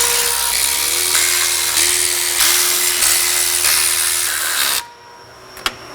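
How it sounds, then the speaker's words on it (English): A ratchet runs in the cylinder head bolts on a Ski-Doo 850 snowmobile with a loud, continuous hissing whir in pulsing bursts, then stops abruptly, followed by a single sharp click. "we're going to go ahead and run them in with the ratchet here"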